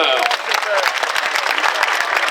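Roadside crowd at a Tour de France stage in La Rochelle applauding a cyclist, continuous loud, close clapping throughout the short burst.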